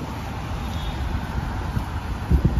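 Strong wind blows across the microphone during a rainy stop on a road trip near Kirov, a steady low rumble of buffeting with the hiss of nearby traffic underneath and a few louder gusts near the end.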